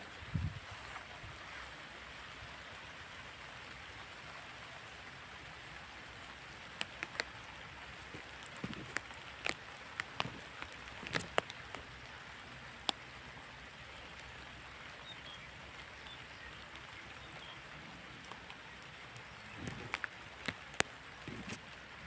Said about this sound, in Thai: ฝนก็ลังตกปล่อยๆหน้ากล้องก็เปียก